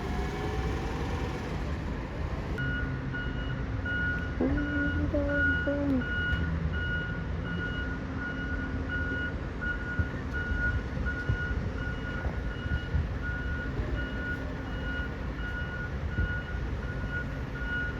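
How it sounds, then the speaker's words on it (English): A Simi Valley garbage truck, a WM refuse truck arriving at the yard on a Thursday evening, gives steady evenly spaced reversing beeps at mid distance over a low engine rumble and yard ambience. "Simi Valley garbage truck."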